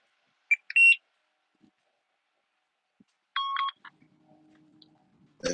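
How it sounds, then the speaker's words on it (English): A walkie-talkie gives short, clipped electronic beeps in a few separate bursts with silence between them, heard faintly over a quiet live radio call. "With your walkie-talkie beeping over there?"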